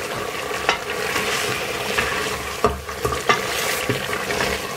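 Mutton cooking with garam masala is stirred in a sizzling pot, a steady frying hiss with repeated scraping strokes and occasional knocks of the spoon, close and loud, no talk.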